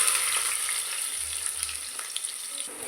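Chopped onions frying in hot oil with garam masala spices, a steady close sizzle with a few soft stirring scrapes, no voices.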